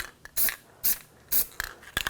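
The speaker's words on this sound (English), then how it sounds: "Just going to spray this with a little anti-seize," Short hissing bursts of anti-seize spray on the front brake parts of a 2007-2013 BMW X5, three or four close, loud puffs separated by brief pauses.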